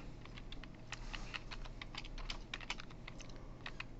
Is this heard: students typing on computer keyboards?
yes